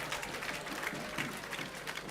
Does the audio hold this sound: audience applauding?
yes